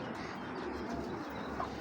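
A female pigeon coos softly, a faint low murmuring call heard alone in a quiet room for a couple of seconds.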